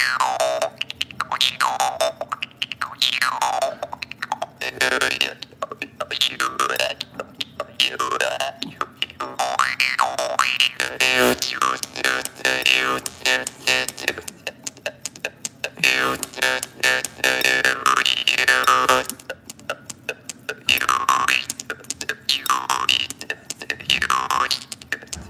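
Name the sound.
mouth harp played with a finger placed on the reed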